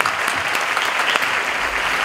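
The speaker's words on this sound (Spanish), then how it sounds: "¡Es aplauso para ella!" Audience at the Premios Latino awards show applauds, with steady, dense, loud clapping throughout the short stretch and no talking over it.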